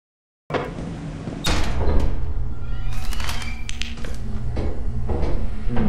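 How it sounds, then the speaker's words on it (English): A door creaks open in the video game Lethal Company against a low, steady droning ambience, with a few knocks and thuds scattered through it and no talking. "Door creak noise."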